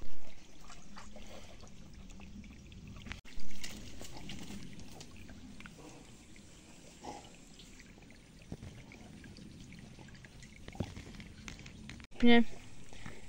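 A horse drinks water with gulping and trickling splashes, while a voice talks quietly in the background and a few louder bursts break in.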